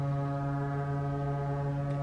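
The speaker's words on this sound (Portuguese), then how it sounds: "É buzina de navio. É buzina de barco." A cruise ship's horn sounds as one loud, steady, low droning blast with rich harmonics, held unbroken throughout.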